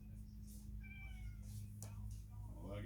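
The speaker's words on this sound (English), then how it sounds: "Yes, we do have a spare cat in here." A cat meows faintly a few times over a steady low electrical hum, with someone talking quietly nearby.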